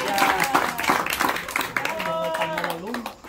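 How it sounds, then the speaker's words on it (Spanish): An audience claps during a prize-giving while a voice keeps talking over it, with brisk, close claps that crowd the first half before speech takes over. "por favor, y un aplauso para don José"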